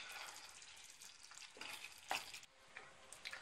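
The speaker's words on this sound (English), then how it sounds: "Oh, it's bubbling away nice. We'll just give that a good stir." Bolognese sauce bubbling in a pot, a quiet close sizzle and soft bubbling with a few scraping stir strokes and clinks of a spoon, no talking.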